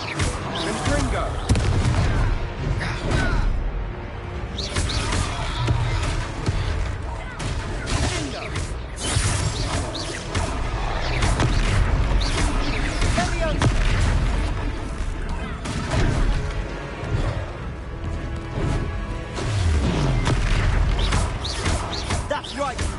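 In the Hogwarts Legacy video game, Confringo spell blasts boom and crackle repeatedly through dense, loud combat noise, with a voice speaking over the explosions.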